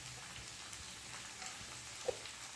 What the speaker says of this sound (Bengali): সব একসাথে ভালো করে কষিয়ে নিই